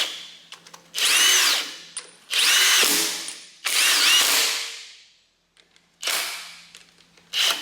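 A power tool runs down bolts on a Cummins engine in a series of five loud, close whirring bursts of about a second each, separated by short pauses, with small clicks and rattles between them.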